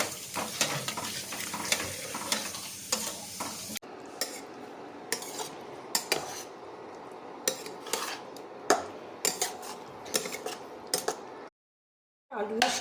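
Potato curry with jaggery is stirred in a hot pan, a metal spoon scraping and clinking against the pan in irregular strokes over a soft sizzle, close up, with the sound cutting out briefly near the end.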